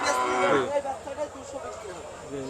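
Pakistani Sahiwal bull calves moo, opening with one loud, close bellow that fades into softer, drawn-out lowing calls.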